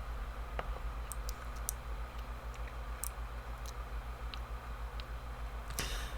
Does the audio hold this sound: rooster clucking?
no